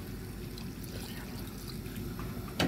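A steady stream of water pours and trickles into a cooking pot of fish and tamarind for a Jaffna-style fish sothi, close by, with a faint clunk at the end.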